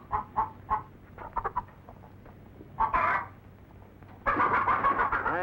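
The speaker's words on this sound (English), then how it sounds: "Well, feed the chickens." Chickens cluck in short bursts around a farm, with a louder, denser stretch of fowl calls toward the end and faint low background rumble.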